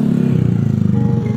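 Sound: passing motorcycle

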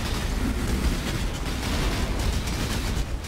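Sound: explosions in a video game

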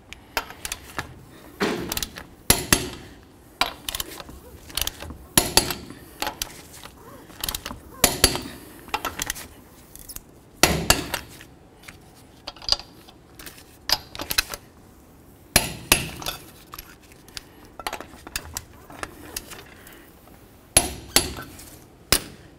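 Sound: torquing truck wheel lug nuts with a torque wrench

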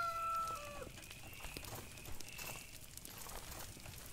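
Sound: rooster crowing in video game Force of Nature

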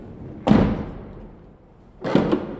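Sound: Peugeot 307 rear car door being closed

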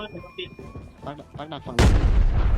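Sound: grenade explosions in a video game

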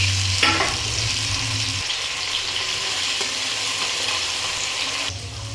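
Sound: stirring potatoes in pan, adding chopped tomato

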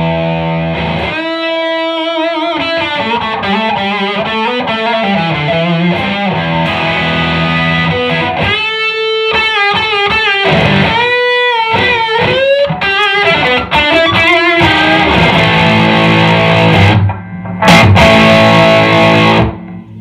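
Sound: electric guitar played through distortion

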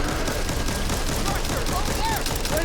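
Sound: rapid gunfire from the video game Back 4 Blood

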